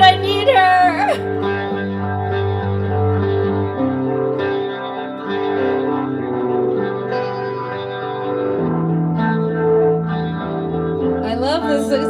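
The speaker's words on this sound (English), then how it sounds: "It works so well with all the reverb and delay." Moody music soaked in heavy reverb and echoing delay, with sustained layered tones and a distorted, chorus-like shimmer, played steadily and fairly loud throughout.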